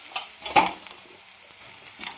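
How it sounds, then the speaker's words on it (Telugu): Ridge gourd pieces fry in hot oil in a kadai after a curry tempering, giving a soft, steady sizzle with one sharp stirring clatter near the start. "ఆయిల్లోనే బీరకాయ ముక్కలు కూడా బాగా ఫ్రై చేసేసుకోవాలి"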